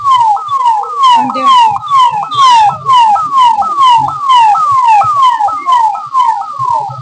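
A loud ambulance siren wails in rapid repeating sweeps on a waterlogged street in Amritsar after rain, each tone sliding down then jumping back up, cycling quickly and continuously.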